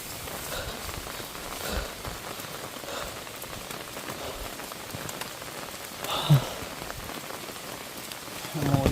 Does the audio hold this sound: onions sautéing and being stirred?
no